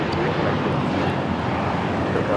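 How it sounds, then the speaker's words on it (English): An American Airlines Airbus A321 jet takes off at LAX, bound for Dallas Fort Worth, as a steady, loud, broadband engine roar that holds constant throughout with no other distinct sounds. "This takeoff is American Airlines 2543 taking off to Dallas Fort Worth on the A321"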